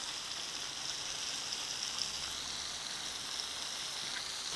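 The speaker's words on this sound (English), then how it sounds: "Keep turning and keep roasting" Prawns roasting in a pan, giving a steady, even sizzle that stays soft and continuous throughout with no talk over it.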